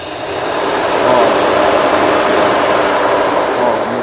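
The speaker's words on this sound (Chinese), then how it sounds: "我们看到刚刚引擎转速有改变" Mercedes W126 420 engine idling close by, a steady dense broadband hum whose pitch shifts slightly as the idle control motor is unplugged and reconnected.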